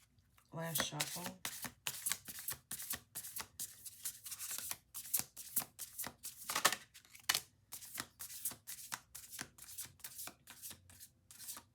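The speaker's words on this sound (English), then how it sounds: "Last shuffle." Oracle cards riffle and slap in a rapid series of crisp bursts, close and fairly quiet, and a soft voice talks through the shuffling.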